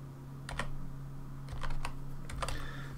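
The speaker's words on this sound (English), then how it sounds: "I just type in equals average" Keys clacking on a computer keyboard while a spreadsheet formula is entered, a few quick bursts of close taps over a steady low hum.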